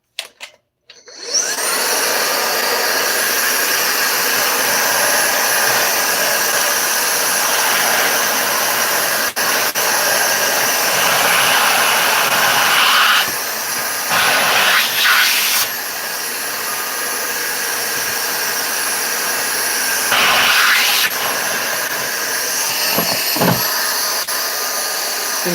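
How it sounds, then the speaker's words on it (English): A vacuum cleaner sucking up aluminum shavings, a loud, steady roaring whine that starts abruptly and runs nearly the whole time, with brief shifts in pitch and a few rattling pickups. "I'm going to want to vacuum this up because we don't want to spread this aluminum all over"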